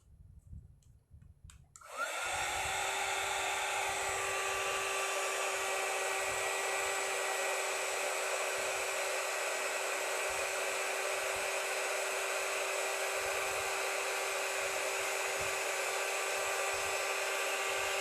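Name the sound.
heat gun blowing on texture paste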